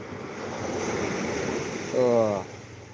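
Surf at Digha beach during high tide rolls and washes steadily with wind across the microphone, and a brief tonal hum or voice-like sound rises near the end.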